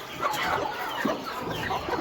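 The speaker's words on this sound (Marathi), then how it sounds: "या कोंबडीनं पिल्ले काढलेले आहे" A brooding hen with chicks clucking softly nearby in a continuous, busy murmur of short calls.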